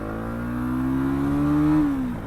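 A Bajaj Pulsar NS200 motorcycle, a 2023 model, accelerates in first gear, its engine note rising steadily in pitch and loudness for about two seconds before easing off, close and alone without talk.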